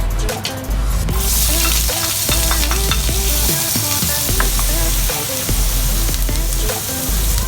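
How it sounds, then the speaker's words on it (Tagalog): Chopped onion sizzles loudly in a pan for a sauteed bitter melon dish, a steady close hiss with frequent scraping stirs and clinks of a utensil throughout, no voices. "So ko first i-fry yung onion."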